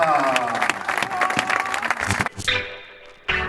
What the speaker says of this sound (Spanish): El aplauso para los actuales campeones del Master, Lucho, Solidez y Agustín Tapia.